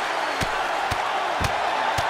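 Broad, steady roar of a capacity arena crowd in the WWE 2K22 wrestling video game, with a few sharp impact thuds cutting through the continuous cheering.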